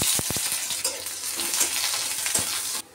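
Onions hit hot oil with cumin and torn dried chili for a vegetarian vegetable dish, giving a steady, loud, close sizzle with a few quick spoon taps early on, then cutting off near the end.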